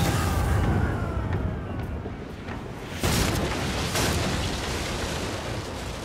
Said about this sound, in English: fire the starboard cannons